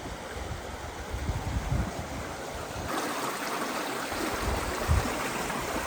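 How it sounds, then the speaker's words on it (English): A high, flooded river rushes and churns steadily nearby, a loud continuous roar of moving water with gusty swells and no talking. "The river is so high."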